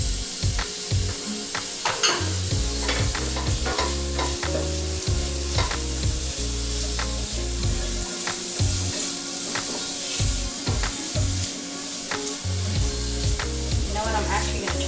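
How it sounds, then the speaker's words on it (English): Cucumbers sautéing with onion and garlic in a pan, a continuous close sizzle with frequent spoon scrapes and taps, stirring throughout at a steady moderate level, with no talk. "Cook those cucumbers a little bit."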